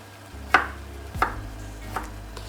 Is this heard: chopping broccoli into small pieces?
yes